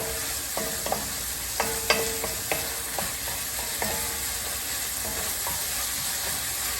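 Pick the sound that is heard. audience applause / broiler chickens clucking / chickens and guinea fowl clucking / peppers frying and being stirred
peppers frying and being stirred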